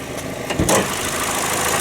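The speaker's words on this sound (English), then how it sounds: "It idles super quietly." A 2019 Toyota RAV4 LE with a 2.5 liter 4-cylinder engine idles as a steady, quiet hum with a brief low thump partway through, heard close up with no talking.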